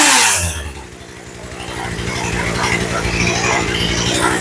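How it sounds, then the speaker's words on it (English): A Poulan Pro chainsaw with a newly replaced carburetor idles low and steady, its small two-stroke engine close and loud, with a rapid, even putter and a slight revving flare at the start. "See, it's still idling low even though we turned it up."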